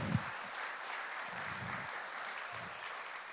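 Church congregation applauding a couple celebrating fifty years of marriage, a steady broadband wash of clapping from a sizeable crowd, with a few low thumps or murmurs underneath and no talk over it.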